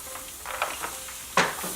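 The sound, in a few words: vegetables in oil sizzling on a hot baking sheet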